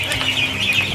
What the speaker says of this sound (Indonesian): Ini adalah DOD atau anak bebek saya yang sudah datang kemarin ya teman-teman